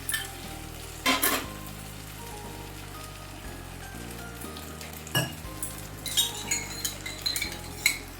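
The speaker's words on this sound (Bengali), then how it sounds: "পোস্ত আর নারকেল কোড়াটা একটু নেড়ে নিচ্ছি" Poppy seed and grated coconut paste is stirred in a frying pan, with soft sizzling under irregular scrapes and clinks of a utensil against the pan, close by and without talk.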